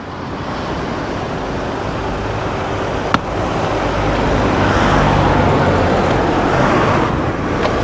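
Steady road traffic noise from passing cars, a continuous broadband roar that swells gradually toward the middle and stays loud, with one sharp brief click near the middle and no talking.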